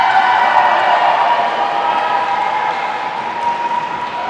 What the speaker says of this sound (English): I do love how loud the crowd is every single time for Abigail